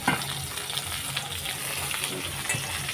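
Drumstick stalks and potatoes fry in a pan, giving a steady close sizzle with scattered crackles and soft stirring scrapes.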